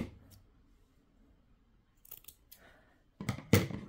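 Scissors cut a piece of yellow material for a mini doll outfit, a few short, close snips spaced apart in a quiet room, with the last two crisper and louder.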